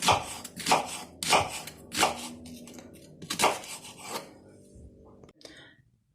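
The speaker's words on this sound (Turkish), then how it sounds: "Şöyle görmüş olduğunuz gibi bu şekilde Soğanlarımızı doğrayacağız" A knife chops through onions on a board in a series of rasping strokes, a few seconds apart, close up and fairly loud, with no talking.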